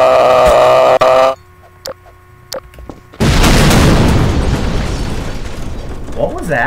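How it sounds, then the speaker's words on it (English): In the Garry's Mod Deathrun Egypt map, a loud game explosion bursts in after a few short scattered sound effects, then its rumbling roar trails off over several seconds. "That was explosion."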